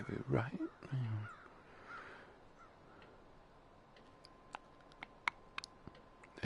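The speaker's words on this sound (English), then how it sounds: "There goes those crows again." Crows give a few harsh caws close by at the start. Faint, sparse clicks and ticks follow over a quiet background.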